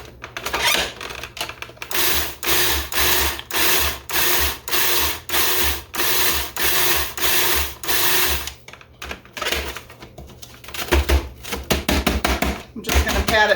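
A food processor pulses in repeated short bursts, crushing saltine crackers with butter for a North Carolina lemon pie, each grinding whir cutting off before the next, with a few clattering sounds and a voice near the end.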